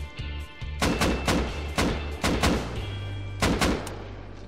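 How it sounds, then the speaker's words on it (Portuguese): Gunfire in the survival game Rust: a rapid series of sharp, loud shots in short bursts, roughly eight cracks with brief gaps, each leaving a booming echo tail. "Tá atirando em mim."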